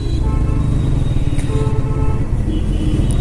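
A motorbike rides through jammed evening traffic on rain-wet roads, its engine a loud, continuous close rumble with a steady throbbing pulse and faint traffic noise around it.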